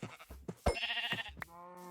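A sheep bleats in a Minecraft-style survival game, a couple of short nasal calls close and clear in a quiet moment without talk.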